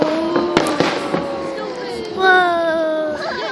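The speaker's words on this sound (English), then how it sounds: "Fireworks." Fireworks going off with friends nearby: a few sharp bangs and crackles early on, followed by whistling tones, with people talking and exclaiming throughout.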